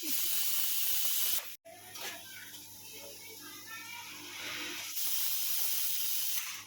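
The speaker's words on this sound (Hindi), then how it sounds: "ये कुकर में तो सीटियां मार रहा है" A loud, steady hiss of escaping steam from a whistling pressure cooker runs almost throughout, briefly cutting out, with faint voices underneath.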